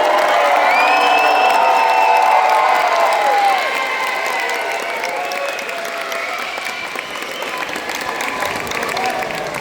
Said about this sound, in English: please join me applauding the newly graduate class of Prairie Seeds Middle School